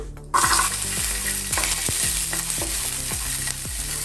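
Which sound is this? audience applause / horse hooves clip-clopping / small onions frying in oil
small onions frying in oil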